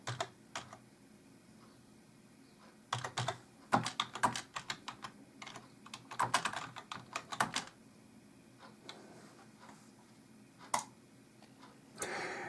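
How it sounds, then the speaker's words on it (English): Keystrokes on a computer keyboard as an address is typed into a search bar, coming in short irregular bursts of clicks separated by brief pauses, close and fairly quiet with no talking. "I'm going to type in the address here up in the Google search bar."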